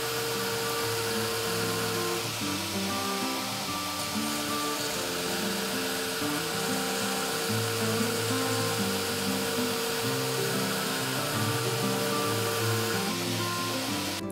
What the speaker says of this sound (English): I grind the axe to its final shape, and I also do a rough grind on the edge